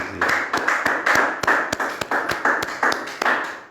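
A church congregation claps together during a midday prayer acclaiming Jesus, a steady rhythmic run of sharp hand claps, close and loud, with no talk over it.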